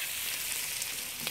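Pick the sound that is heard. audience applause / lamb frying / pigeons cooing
lamb frying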